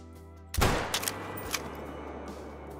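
A 22-250 rifle fires a single sharp, loud shot at a whitetail deer in the hunting game Call of the Wild, followed by a long decaying rumble and a few faint echoing cracks.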